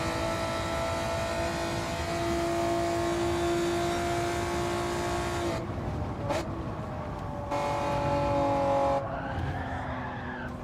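Race car in a no-assist racing video game whips into a spin and crashes, leaving heavy front-end damage: a steady high engine drone with tire skid that breaks off into abrupt impact changes, loud and up close.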